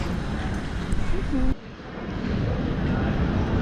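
Broad roar of aircraft engines at Amsterdam airport, a steady wash of jet noise that drops abruptly partway through, then resumes more softly, heard from indoors or nearby without clear speech.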